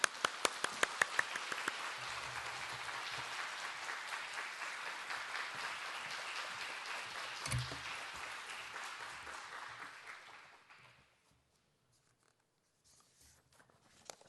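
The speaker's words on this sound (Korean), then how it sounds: "우리가 더 귀한 박수로 모시겠습니다" A congregation claps to welcome a visiting pastor at a Friday intercessory prayer meeting in a church. The applause is steady and dense at first, then fades out and leaves near silence.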